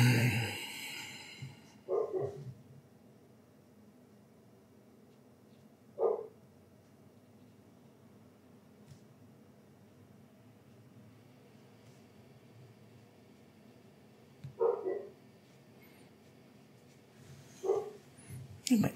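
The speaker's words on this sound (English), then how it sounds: "Dog barking in the background." A dog barks in the background in short, separated bursts, a few single woofs spread across a quiet room with a faint steady hum, fairly distant and not loud.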